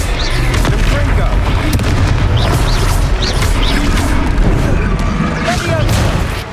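Confringo fire spell explosions in the video game Hogwarts Legacy, loud dense booming blasts and crashes under shouted voices during a battle.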